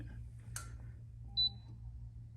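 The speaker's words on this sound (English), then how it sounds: "if you press this button, you'll get a 2 beep feedback" Axent One C Plus electronic toilet seat giving its pairing feedback: a quick, clear, high double beep heard once, close, over a steady low room hum.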